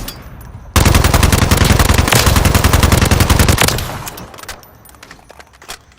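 An AMAX assault rifle fires a loud sustained automatic burst in Warzone on Rebirth Island, lasting about three seconds. A fading tail and a few faint clicks follow.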